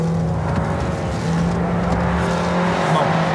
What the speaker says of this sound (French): allons-y maintenant avec la Mazda 6 au slalom